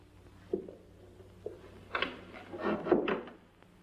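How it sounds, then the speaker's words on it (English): An indoor door closes with a few soft knocks and wooden thumps, followed by a louder rattling clunk as it shuts, heard fairly close in a quiet room. "Lottie, close the door."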